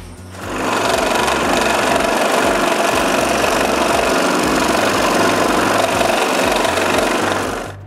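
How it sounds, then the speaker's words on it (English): Power saw cutting small wood pieces with glued-on patterns for an intarsia lighthouse, a steady loud buzzing drone that starts quickly and runs unbroken to the end. "Then I continue to cut some wood."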